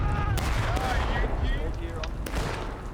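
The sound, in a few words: line of pistols firing at Civil War reenactment battle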